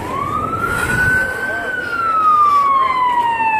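An ambulance siren wails past near a house fire, its tone rising and then slowly falling as it goes by, loud over steady background rumble.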